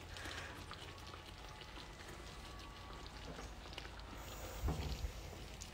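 Pasta tossed into a hot pan crackles and sizzles in a faint, steady, close frying hiss, with a brief louder clatter of stirring near the end and no talking.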